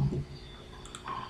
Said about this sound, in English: I will press shift button on my keyboard and right click on my mouse